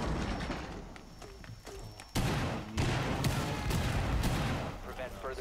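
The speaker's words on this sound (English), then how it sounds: "Using frag." Frag grenade blast in Rainbow Six Siege, a sudden loud boom midway that leaves a rumbling, crackling wash of debris and gunfire-like noise over the rest, with fainter game sounds before it.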